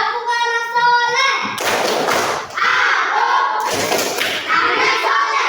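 Group clapping for the tepuk anak soleh chant in a classroom setting, with loud rhythmic claps and thumps layered under children's chanting voices, close and energetic.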